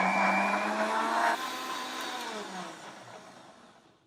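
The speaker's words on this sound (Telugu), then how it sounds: "మిక్సీ పట్టేసుకుందాం." Kitchen mixer grinder blending jaggery with water, a loud close whirring motor drone that holds steady, drops in pitch briefly, then winds down and fades to quiet at the end.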